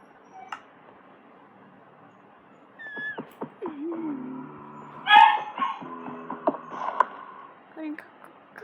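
A dog barks in a lava rising parkour video game, with a few short barks and yips mixed among other game sounds. A voice talks over them.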